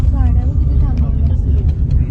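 Busy road traffic near Lonavala, a steady dense rumble of passing cars and buses under a voice, with the noise constant throughout.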